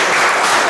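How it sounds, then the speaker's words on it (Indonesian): A classroom of students applauding together in a short, dense burst of clapping, loud and close, with no talk over it. "Nah, bagus, tepuk tangan."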